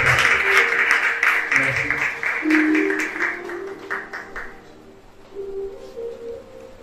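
Audience applause and cheering at a church-linked business conference in Benin, loud and dense at first, then thinning and fading with some voices mixed in.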